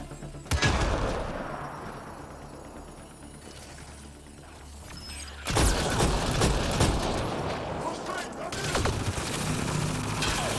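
Loud bursts of gunfire and rapid shooting from the video game Mass Effect Andromeda, with a heavy barrage after a brief lull, dense and close, over game ambience.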